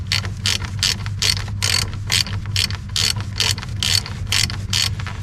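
Ratchet wrench tightening a battery terminal nut on a Kubota LX2610 tractor, giving a steady run of rapid clicking strokes, close and fairly loud, with a low hum underneath.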